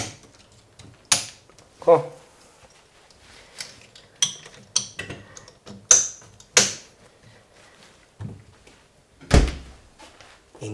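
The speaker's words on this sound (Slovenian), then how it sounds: "zdaj pa vrnemo še tele okrasne plastike gor" Decorative plastic trim pieces snapped back onto a refrigerator door after reversing the door's opening direction, giving several sharp clicks and thunks spread through the clip with someone speaking briefly between them.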